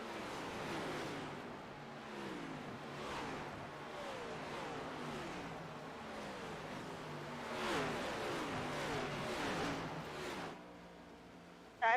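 Race cars roar around a short oval track at a winter racing event, engines rising and falling as several cars pass in a steady succession at moderate distance, with a sudden loud burst right at the end.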